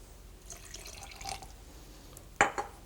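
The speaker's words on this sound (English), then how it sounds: "I add my water," Water trickles and splashes into a pear puree, a few soft drips and small pours at close range, ending in a sharper splash near the end, with no talking.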